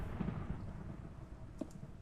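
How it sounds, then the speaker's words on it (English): Thunderstorm in Minecraft, a low, rolling rumble of thunder with a steady rain-like wash, moderately loud and continuous, with no talk. "Can I go to sleep in a thunderstorm?"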